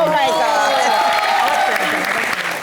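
Studio audience applause on a Hindi TV comedy show: dense, continuous clapping from a large crowd, loud and close, with a voice speaking over it throughout.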